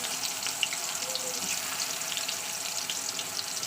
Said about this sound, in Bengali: তেলটা আমার গরম হয়ে গেছে এবার ভাজতে শুরু করবো